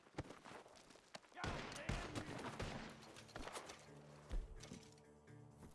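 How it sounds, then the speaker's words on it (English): Gunfire erupts in rapid, irregular bursts near a barn, sharp cracks and volleys at a distance with faint music-like tones underneath, fairly quiet overall. "The gunshots are coming from that barn!"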